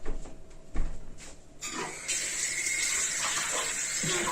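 A kitchen tap runs in a steady gush as items are washed beneath it, after a few clinks and knocks and then continuous splashing water close by.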